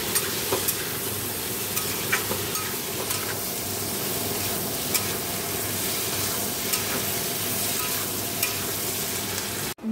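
Spices sizzle in oil in a kadai for a fish curry, a loud continuous crackling hiss that carries on evenly throughout, with a few scraping stirs and no voices.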